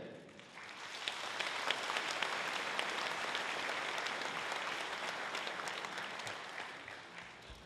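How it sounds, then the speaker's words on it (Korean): A church congregation at a national elders' gathering gives a sustained round of thankful applause, building quickly to a full, steady wash of many hands clapping in a large hall, then gently tapering. "은혜 받으신 대로 감사의 박수 다시 한번 보내주십시오"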